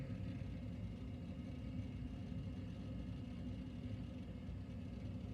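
Hard drive of a 1996 Micron Millenia computer running with a steady low hum and whir, faint and continuous with no talk.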